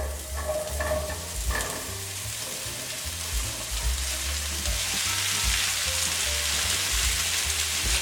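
Garlic, mushrooms, yellow squash and zucchini dumped into a hot pan, sizzling loudly and steadily with a few early clatters and stirring scrapes, no voices.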